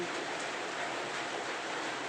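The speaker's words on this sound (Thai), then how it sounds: "มีฝนตกลงมาแล้ว หลังจากที่อากาศร้อนมาหลายวัน" Rain falls after several hot days, making a steady, even hiss of drops that stays constant and fairly close throughout, with no voices.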